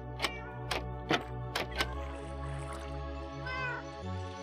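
A cat meows in Minecraft, a few short in-game meow calls at the start over steady background game music and ambience, followed by a longer stretch of music.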